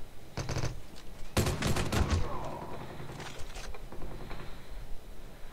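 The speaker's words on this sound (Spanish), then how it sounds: "Hacia 350 se ven disparos" Bursts of rapid gunfire crackle in short volleys in Call of Duty Mobile, a few mechanical clicks between them, with faint background ambience and no clear speech.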